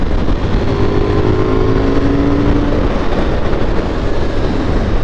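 A KTM Duke 990 motorcycle pulls steadily in fifth gear at around 4000 rpm, a continuous loud engine drone with a slowly rising tone mixed with wind rush, close and unbroken for the whole stretch.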